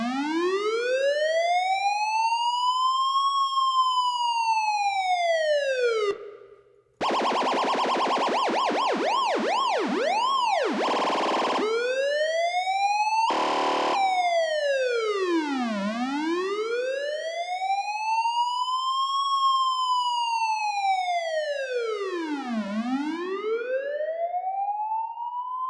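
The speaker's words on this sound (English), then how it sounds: "Today we're going to be making a police siren, a sound effects tutorial in Vital." A synthesized police siren built in the Vital synth sweeps up and down in slow wails, switches briefly to rapid yelping and a harsh buzzing alarm, then returns to long rising and falling tones.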